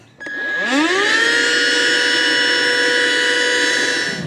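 An ETENWOLF Zephyr S5 compact air pump switches on and spins up with a rising electric whine, then settles into a loud, steady motor hum with no one talking.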